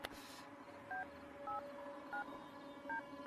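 A series of short telephone keypad tones, five evenly spaced beeps, each a brief dual-pitched blip over a quiet background hiss.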